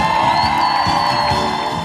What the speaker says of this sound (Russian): Встречаем их бурными аплодисментами